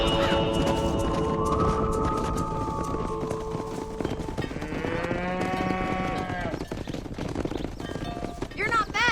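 A cattle herd in Red Dead Redemption lets out long, loud overlapping moos, one after another, close by over hoofbeats and busy game noise.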